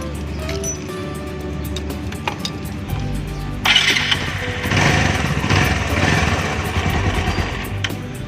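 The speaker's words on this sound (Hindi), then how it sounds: "एक बार बाइक स्टार्ट करके देख लेते हैं हम लोग कि कहीं कोई इशू तो नहीं हो गया।" A bike's small motorcycle engine starts up after its spark plug is refitted, then idles and runs steadily at close range, a rough buzzing drone that swells after the start.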